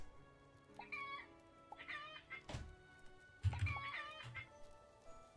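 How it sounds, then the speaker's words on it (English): Robot chickens in the Starbound video game cluck in short, close, fairly quiet bursts, several scattered clucks over a few seconds with no talking. "I don't care about the robot chickens so much, but I'll get them anyway."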